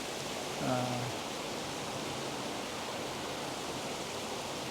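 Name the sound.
Claret torrent water rushing below dams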